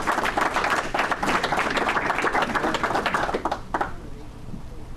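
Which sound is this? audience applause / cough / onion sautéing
audience applause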